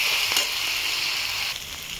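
Fish sizzling in hot oil with chili and turmeric added, for a Bengali surpai fish curry with potato and onion stalks, giving a steady, close crackling hiss with no talk.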